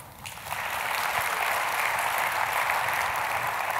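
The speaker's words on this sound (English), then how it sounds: "Round of applause if you're a boomer." Applause from a large audience at a plenary session of a scientific annual meeting, starting softly and quickly swelling into a loud, sustained, even wash of clapping.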